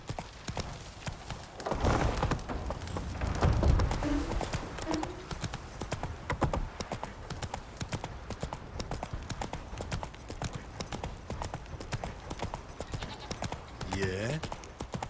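Horse hooves trotting in The Witcher 3 video game, a continuous clip-clop rhythm with a brief whinny near the end, mixed with game sounds and voices.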